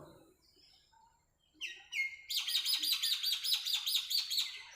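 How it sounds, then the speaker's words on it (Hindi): Birds chirp in the early morning, a few scattered calls giving way to a steady, rhythmic series of bright repeated tweets, clear and moderately close with no voices. "चिड़ियों की चहचहाट की आवाज़ आपको"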